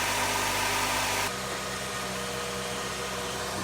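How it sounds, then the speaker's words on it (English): A 2015 Nissan Sentra with a CVT sits idling, a steady engine drone under a loud broadband hiss that suddenly drops lower after about a second, leaving an even mechanical hum with no voices. "Okay, I've started the car."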